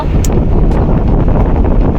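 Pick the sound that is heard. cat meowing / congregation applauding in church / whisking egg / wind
wind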